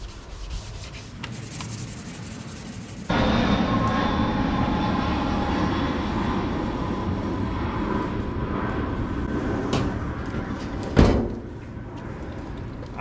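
On a 1971 VW Super Beetle, a machine buffer works oxidized paint, starting up after a few seconds into a loud, steady rubbing whir that drones on, broken by a brief louder bump near the end.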